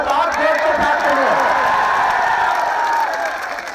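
A crowd at Jamia Millia Islamia applauds a poetry recital with loud, sustained clapping and scattered cheers and whoops, close and full, while a voice carries over the top and the applause eases off near the end.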